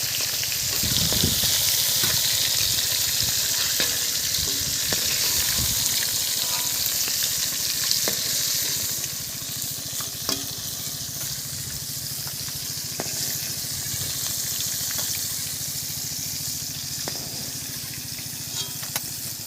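Hilsa fish pieces fry in hot oil in a pan, giving a continuous, close, even sizzle with light crackling throughout and no talk.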